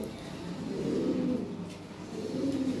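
Lahori fancy pigeons coo softly nearby, two low throaty calls rising and fading over a quiet background.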